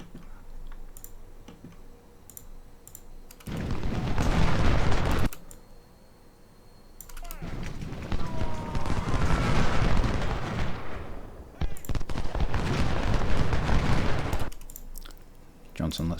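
Musket volleys from the Ultimate General: Civil War video game at the Cold Harbor battle come in long rolling bursts, separated by quieter stretches filled with mouse and keyboard clicks. Loud crackling fusillades swell and then fade.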